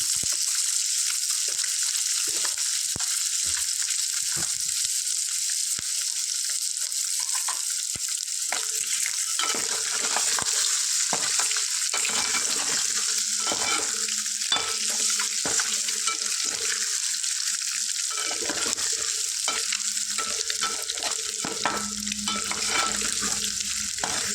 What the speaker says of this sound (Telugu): దీన్ని ఫ్రై చేసుకుంటాం ఫ్రెండ్స్ ఇందులో ఒక స్పూన్ స్పూన్ కారం వేసుకుంటాము